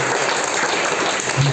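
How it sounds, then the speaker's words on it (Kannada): Audience at a school gathering claps loudly to congratulate non-teaching staff, a dense, continuous burst of applause filling the short moment. "ಚಪ್ಪಾಳೆ ತಟ್ಟಿ ಅವರನ್ನು ಅಭಿನಂದಿಸಬೇಕು."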